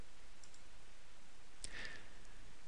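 A single computer mouse click while working in Tableau, a short sharp tick midway through an otherwise quiet, steady room hiss.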